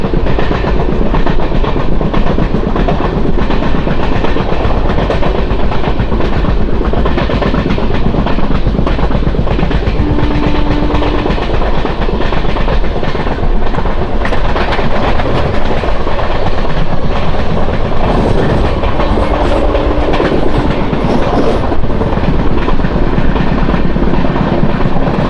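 The Janmabhoomi Superfast Express runs along the tracks after leaving Tuni, a loud, continuous rumble and roar with steady rattling of wheels and carriages. It goes on without speech.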